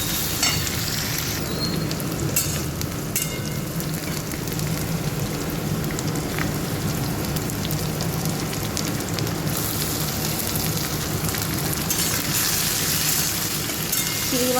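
Chopped onion fries in hot oil with a tempering of spices, giving a dense, constant sizzle that is close and loud throughout, with occasional stirring clinks and no talk.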